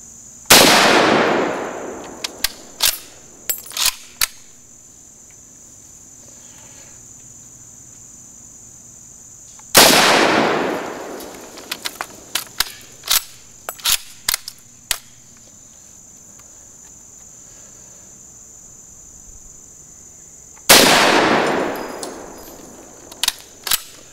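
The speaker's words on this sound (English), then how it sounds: "Typical Russian battle rifle in service through the First World War, Second World War." Three loud, sharp shots from a Russian battle rifle spaced several seconds apart, each with a ringing decay, separated by quieter clicks and handling noise.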